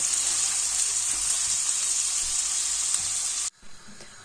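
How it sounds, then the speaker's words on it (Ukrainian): Steady, loud sizzling of minced meat and onion frying in a pan as pie filling, continuous for several seconds before cutting off abruptly near the end. "Ось тут у мене смажиться вже на пиріжки."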